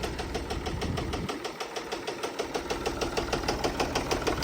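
A Case 1030 tractor engine with a suspected head problem running steadily nearby, a fairly smooth, rapid rhythmic knocking pulse at idle that holds an even beat throughout, no voices.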